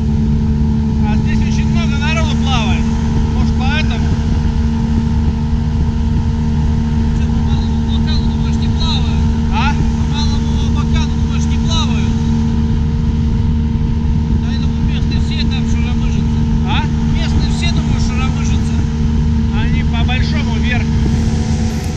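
A brand-new Solar 470 Jet Tunnel jet boat with a Tohatsu 50 outboard runs on the Maly Abakan river in Khakassia, giving a steady, loud engine drone with water rush throughout and no change in pace.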